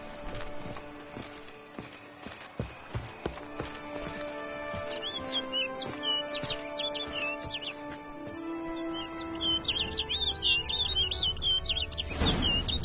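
Small birds chirp in The Witcher game, quick chirps in the second half over game music and clip-clopping hoofbeats, fairly faint in the mix.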